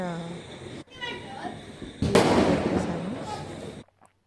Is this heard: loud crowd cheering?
no